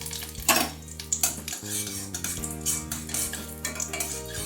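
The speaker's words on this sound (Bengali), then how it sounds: "ফোড়নটা একটু নেড়ে নিয়ে দিয়ে দিচ্ছি" Whole cumin, a bay leaf and a dried chilli stirred in a pan of oil, with repeated close scrapes and clinks of a utensil over a light sizzle, backed by steady music.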